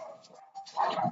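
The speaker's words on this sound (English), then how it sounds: "I do have dogs at home." A dog barks at home in short muffled yaps, somewhat distant and fairly faint, heard during a break in someone's talk.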